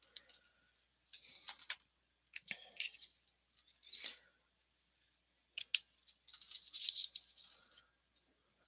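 Scissors snip through fabric in short quiet bursts of crisp clicks, separated by silent pauses and ending in a longer run of quick cuts, close by and alone.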